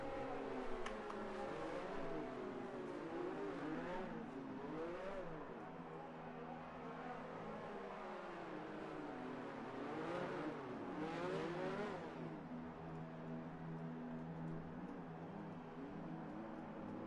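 F2 race car engines in a sim racing game rev on the starting grid at the Russian Grand Prix in Sochi, with faint rising and falling engine whines repeating.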